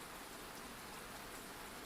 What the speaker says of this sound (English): Rain taps against the window, steady and calming at first